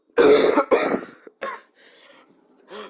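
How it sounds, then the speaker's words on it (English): A sick person coughs hard twice in quick succession, then gives a shorter cough and some softer throat clearing, close and loud with brief pauses between. "Been coughing my face off."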